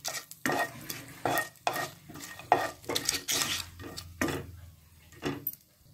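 Whole spices, including cardamom and mace, stirred in a pan for malai paneer: repeated scraping and rattling strokes at a steady rhythm, close and fairly clear, with no talk.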